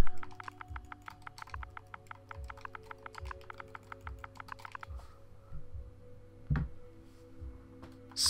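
Rapid keystrokes on a computer keyboard as a command is typed into Minecraft Bedrock, a steady run of close, light clicks lasting about five seconds before pausing, with a few scattered later taps over a low background hum.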